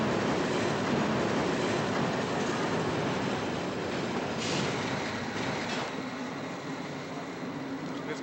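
A train rumbles in loud and steady, its wagons rolling with faint clatter and a brief brighter squeal of wheels partway through.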